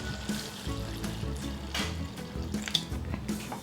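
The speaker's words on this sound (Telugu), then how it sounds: "ఇప్పుడు దీంట్లో 1 గ్లాస్ వాటర్ వేసుకోవాలి." A glass of water is poured into a chicken tomato gravy simmering over a medium flame, making a quiet, watery sputtering hiss with small splashes.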